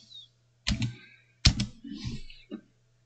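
Keys clack on a computer keyboard in a few short clustered bursts separated by pauses, close and fairly quiet over a faint steady hum.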